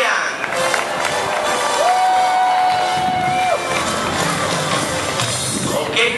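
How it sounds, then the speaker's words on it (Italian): An outdoor crowd at an Aqualandia Jesolo bungee jump cheers and claps for a jumper, a sustained loud mix of applause and shouting, with a brief whistle-like tone rising above the noise. "Dovete aiutarlo con un grande applauso"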